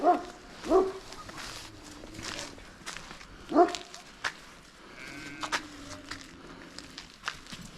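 A dog gives a few short, scattered barks, close by, amid outdoor rustling, footsteps and faint background noise.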